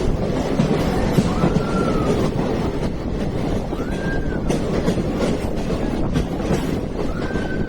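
A train runs through a long rock railway tunnel near Aryankavu, heard from inside a carriage: a loud continuous rumble and roar, with a few faint high squeals from the wheels on the rails.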